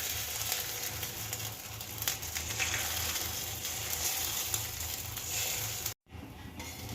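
Egg omelette sizzles in a hot pan, a steady loud frying hiss with faint scraping and a rhythmic low clatter, briefly cutting out near the end before resuming.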